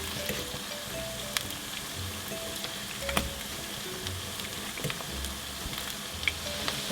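Batches of plantain fritters frying in a pan, a continuous even sizzle with occasional sharp pops and clicks, close and steady without talking.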